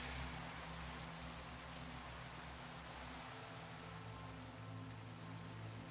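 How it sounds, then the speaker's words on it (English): Steady rain pours down in a tree farm video game, a constant even hiss of drops on surfaces that continues unchanged throughout with no other sounds. "Let's get rid of this rain."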